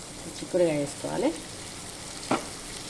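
Broad beans hit oil already frying with ginger and garlic, a busy sizzle under a few short voiced murmurs and a sharp clatter of the pan near the end.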